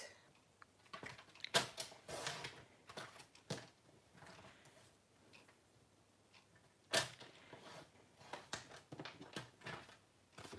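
A paper trimmer slices through cardstock at a crafting table, giving sharp, close clicks and quick scraping cuts in irregular bursts, fairly quiet with no speech.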